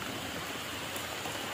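Steady rain falling in a forest, a dense continuous hiss of drops on leaves and ground, moderately loud and unbroken, with no voices.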